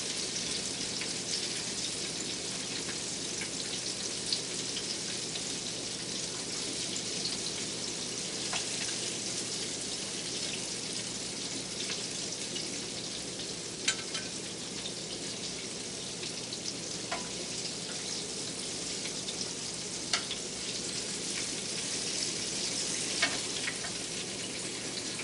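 Smoked salmon balls frying in hot oil, a dense, even crackling sizzle lasting the whole stretch with scattered sharper pops, close and alone.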